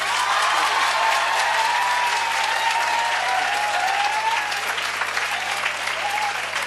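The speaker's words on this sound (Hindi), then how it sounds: "आप अपने लिए तालियां बजा दो।" Students in a coaching class in Sonipat applaud themselves, a dense, loud, continuous burst of many hands clapping close by, with a faint voice briefly audible underneath.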